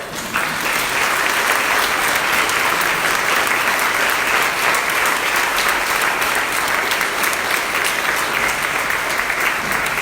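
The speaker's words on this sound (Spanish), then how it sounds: "Vamos a dar un fuerte aplauso." Loud, sustained applause from an audience at a Catholic inner-healing workshop, dense steady clapping filling the whole stretch without a break.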